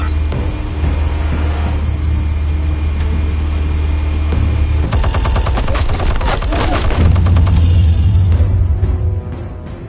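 Weapons fire and explosives going off in a Batman Telltale game: a steady low rumble gives way around the midpoint to a loud, rapid barrage of gunshots, then a heavy deep blast before the sound fades out.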